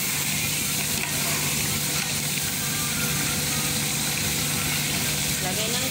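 Beef stir-frying in a pan for stir-fried onions and beef, a steady close hiss and sizzle running throughout with a low hum underneath, while a person talks over it.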